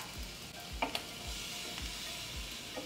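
Sriracha chicken wings sizzle steadily on a hot Ninja Foodi indoor grill, a constant close frying hiss with a few soft clicks and low thumps underneath and no talking.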